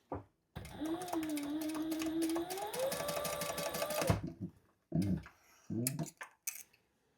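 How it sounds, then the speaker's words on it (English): A sewing machine topstitches a pen pocket on a zip-around travel wallet in one fast, even run of several seconds, followed by a few short bursts of stitching with pauses between them. "fold it down on the one side and top stitch"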